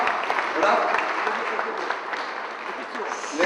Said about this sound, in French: Je voudrais que vous le saluez et que vous l'applaudissiez.